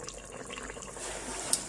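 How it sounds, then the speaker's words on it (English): Water pours into a pot of red Thai curry as a steady, moderately quiet trickling splash lasting under two seconds, with a small clink near the end. "I think I'll add a little bit more water."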